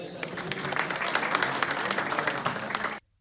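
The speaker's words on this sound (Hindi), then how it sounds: "राजा साहब के लिए बहुत सारी तालियां" A crowd at a London New Year party applauds a performer, steady dense clapping sustained for about three seconds before cutting off abruptly.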